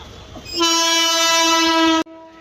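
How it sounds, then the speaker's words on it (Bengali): A train pulling into Bandel station sounds a loud, steady horn blast of about one and a half seconds that cuts off sharply, with faint rail noise before and after. "অবশেষে আমাদের ট্রেন ঢুকে গেল"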